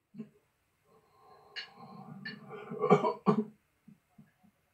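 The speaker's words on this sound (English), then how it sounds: "that weak, dying cough" A weak, strained cough sputters out close up, a few rough bursts trailing into small breathy gasps.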